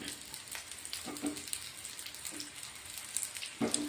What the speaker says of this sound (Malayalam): വഴുതനങ്ങ ഒന്ന് വഴറ്റിയെടുക്കണം. ഒന്ന് ചെറിയൊരു ബ്രൗൺ നിറാവോളം ഒന്ന് വഴറ്റിയെടുക്കണം.